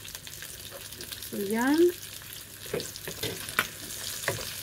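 Onion and garlic paste dropped into hot oil for an eggplant stew give a steady sizzle under a brief spoken phrase, with a few soft stirring knocks against the pan afterward.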